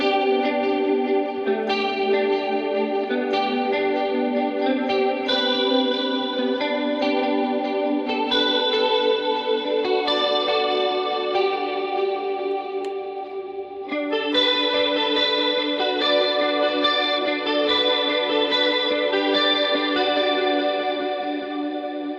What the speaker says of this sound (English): I'll do my vibrato tone